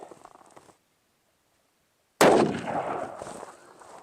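A 7mm PRC rifle fires a factory load on an outdoor range: a single loud, sharp shot breaks a moment of silence, followed by a rolling echo that fades.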